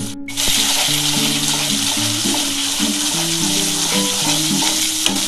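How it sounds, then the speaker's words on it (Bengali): Spice masala frying in oil for an egg poach curry, a steady broad sizzle with intermittent scraping stirs, close and fairly loud, a higher tonal hum running beneath. "যতক্ষণ না তেলটা ছেড়ে আসছে ততক্ষণ কিন্তু মশলাটা কষাতে হবে"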